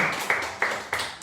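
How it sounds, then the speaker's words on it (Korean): Church congregation clapping for one another in encouragement, sharp hand claps landing in a regular beat about every third of a second, close and fairly loud. "우리 서로를 위해서 격려의 박수"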